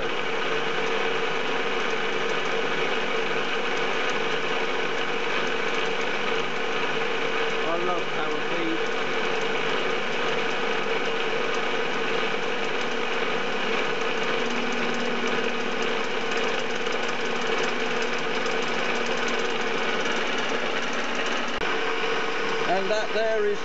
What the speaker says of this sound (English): we'll see what comes out of a bit of machining